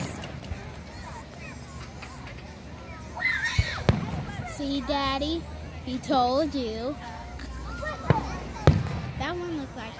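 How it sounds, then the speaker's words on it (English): Labor Day fireworks bursting over Braselton, Georgia, heard as a few scattered booms and crackles beneath steady chatter from a child and adults nearby. "Wow, there's a lot of fireworks."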